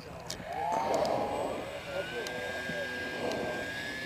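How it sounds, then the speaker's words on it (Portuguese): A low-flying aircraft passes overhead, a steady engine drone with a rising whine that swells and then holds at a moderate level, with voices faintly underneath. "Vou fazer um pouso, um voo baixinho pro Fabrício gravar aqui."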